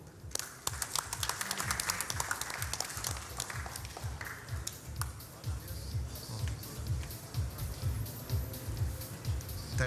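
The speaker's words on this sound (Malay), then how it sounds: "Tepukan untuk saudara Wong Kam Fook." A crowd at the Watsons Piala Malaysia 2013 draw ceremony applauds Wong Kam Fook with steady, dense clapping that keeps going at moderate volume from start to finish.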